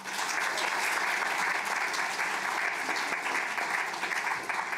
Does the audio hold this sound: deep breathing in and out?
no